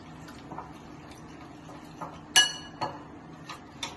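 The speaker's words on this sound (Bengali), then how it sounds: "এবার এটা আমি জল দিয়ে গুলে নেবো ভালো করে" Spice powder mixed with water in a bowl while preparing fish balls: soft scraping stirs with a few light clinks of utensil against the bowl, close and quiet.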